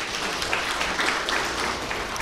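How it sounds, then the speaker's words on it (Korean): Audience applause in a hall at a 2015-2016 Korean women's volleyball rookie draft, greeting the IBK Industrial Bank team's coach; steady, dense clapping fills the short stretch at moderate level. "우리 이정철 감독님께도 응원의 박수를 좀 크게 보내주시기 바랍니다"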